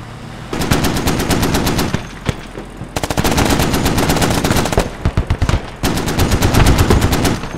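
Marines fire .50 cal heavy machine guns and Mk19 grenade launchers in long, loud, rapid bursts with brief pauses between them, the rhythmic pounding close by and dominating with no talk.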